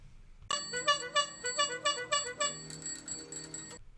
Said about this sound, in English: got him like a little horn and a little bell